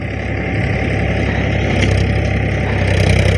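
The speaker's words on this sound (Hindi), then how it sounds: "भाई घुमा रहे हैं ट्रैक्टर को, घुमा के दोबारा से इधर लाएंगे।" Old diesel tractor pulling a sugarcane weeder, its engine running steadily and loud up close, rising slightly as it turns, with no talk.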